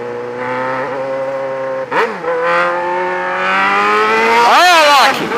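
A motorcycle engine revs loudly and close by during a warm-up in the street, its pitch holding steady, then dipping and sharply rising in a hard rev near the end; a voice is faintly present.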